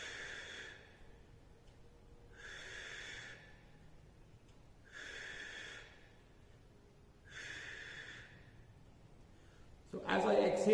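Four forceful, evenly spaced exhales during a Copenhagen plank, each a breathy rush of air lasting about a second with quiet pauses between, close to the listener, followed by a brief louder noise at the end.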